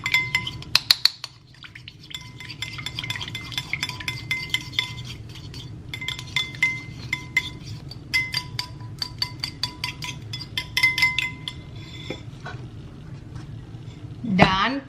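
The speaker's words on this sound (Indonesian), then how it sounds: "Setelah itu kita aduk." A spoon clinks and scrapes steadily against a bowl as salad is stirred with olive oil, close and rhythmic, with a few louder knocks and soft speech in the background.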